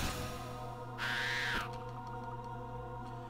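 A bird in Vagrant Story gives a single shrill, drawn-out call lasting about half a second, rising clearly above a steady low background drone.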